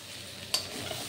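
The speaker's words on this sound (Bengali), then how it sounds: "এটা আরেকটু ভাজা হবে" Boiled potato filling for singara frying in a pan, stirred with a single sharp scrape of the spoon over a faint, steady sizzle.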